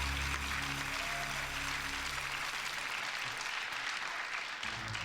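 An audience of about 300 people at a live stream event applauds in a sustained, dense burst of clapping that fills the room steadily and then thins slightly toward the end.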